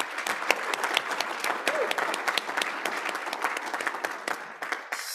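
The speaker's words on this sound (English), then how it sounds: "please give him a round of applause" A meeting audience applauds a Gold Patron, the crisp clapping of a modest crowd rising quickly, holding steady for several seconds and thinning out at the end.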